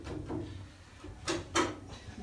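A steel gearbox crossmember slides into position on a car chassis with a couple of short, sharp metallic scrapes over quiet background noise.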